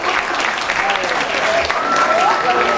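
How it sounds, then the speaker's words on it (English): Audience applause at a talent show, a steady dense clapping from a crowd that fills the whole moment, loud and close with no break. "You get a special round of applause for everybody."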